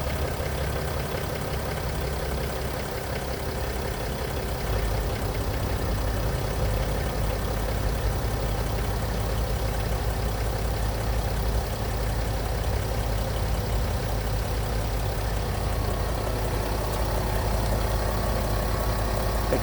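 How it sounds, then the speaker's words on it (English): A Mercedes GL320 engine runs at a steady, loud idle, a constant low rumble with a slight knocking texture throughout and no talk. "Now I'm gonna start the car."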